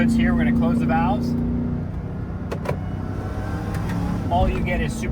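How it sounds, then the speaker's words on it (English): Supercharger whine from the front of a Ram TRX pickup with its Valvetronic exhaust valves closed, a steady high whine over a low engine hum, moderately loud, with a voice talking at the start and end. "All you get is supercharger whine coming through the front of the truck"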